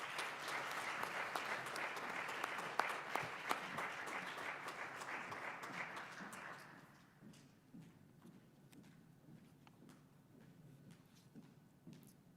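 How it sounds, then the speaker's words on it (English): Applause from an audience at an awards ceremony fills the room, a dense patter of clapping that thins into scattered claps before fading out. "Please give a round of applause for Aaron."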